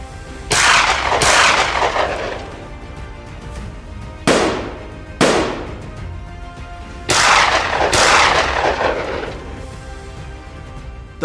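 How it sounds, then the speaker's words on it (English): Rifle shots fired from an R-44 helicopter during a hog hunt over open plains: about six loud, sharp cracks that come singly and in quick pairs, each trailing a long rolling echo. "the hunters' gunshots echoing across the plains"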